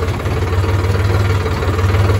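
A tractor engine runs close by, holding a loud, steady, low throbbing rumble with an even pulsing beat throughout and no talk.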